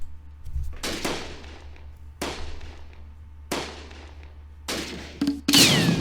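Tank cannon fire in the Close Combat video game, a Panther tank being hit, heard as several sharp, loud bangs spaced about a second apart, each followed by a short decaying rumble, with a steady low hum underneath.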